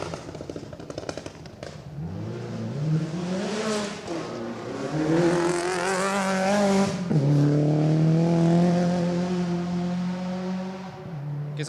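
A rally car engine revs hard and climbs through the gears on a forest stage of the Gippsland Rally, passing close by with rising and falling pitch, tires crunching over a loose gravel road.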